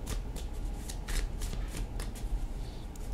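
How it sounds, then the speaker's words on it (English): A tarot deck is shuffled by hand in quick, papery bursts, close and crisp, with brief gaps between riffles and no voices. "I'm going to shuffle it, and then I'm going to cut it in half"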